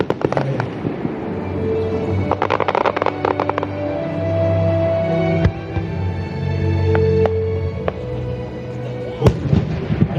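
Senrin thousand-ring fireworks burst over the Akigawa river valley at an autumn fireworks festival, a rapid scatter of crackling pops and distant booms over a steady rumble, with occasional sharp louder bangs.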